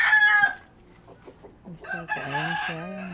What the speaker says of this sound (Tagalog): Ayan yung mga manok namin.